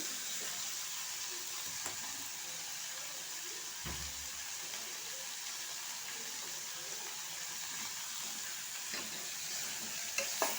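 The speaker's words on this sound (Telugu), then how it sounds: "ఇది కొంచెం కలర్ వచ్చేదాకా గోలిస్తూనే ఉండాలండి." Bitter gourd pieces fry in oil while being stirred, a faint, steady sizzling hiss with occasional soft scraping and clinks from the spoon across the pan.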